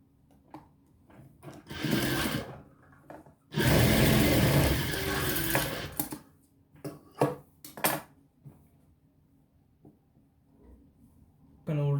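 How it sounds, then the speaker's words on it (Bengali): A sewing machine stitching a blouse runs in loud bursts. A short whir comes first, then a longer steady run, then quieter intermittent stitches with pauses, set close in a quiet room. "আপনি এখানে মেশিনে সেলাই দিতে পারেন"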